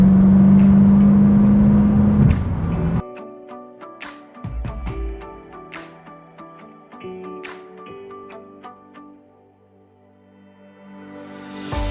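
A Mercedes SLK55 climbs through an underground car park, engine rumble fading after a few seconds into echoing ticks and clicks in the enclosed concrete space, with low engine hum continuing underneath.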